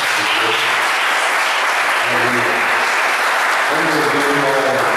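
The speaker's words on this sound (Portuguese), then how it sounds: "E nos outros pode aplaudir." A church congregation applauds at the close of a sermon, giving a loud, continuous roar of clapping with voices calling out over it.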